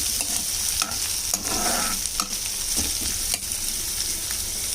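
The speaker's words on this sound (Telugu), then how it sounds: "ఇప్పుడు ఆయిల్ వేడైన తర్వాత ఒక ఆనియన్ వేసుకోవాలి" Chopped onion sizzles in hot oil in a pan, a steady frying hiss broken by several scraping stirs, close and fairly loud with no talking.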